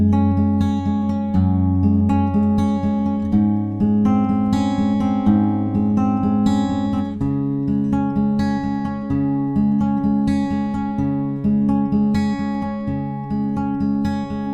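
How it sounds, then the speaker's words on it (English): A guitar fingerpicks the second half of the bridge of a song, steady arpeggiated notes ringing together over a moving low line, close and even in volume throughout. "So the second half of the bridge sounds like this."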